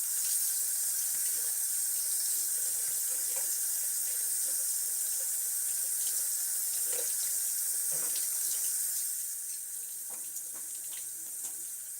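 Tap water runs steadily into a sink for rinsing after a wet shave, a close, continuous splashing hiss that softens slightly near the end, with no voices.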